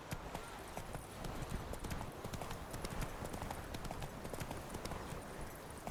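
Horse hooves clip-clop steadily in The Witcher 3: Wild Hunt, a continuous even trotting rhythm over a dense ambient game soundscape, with no speech.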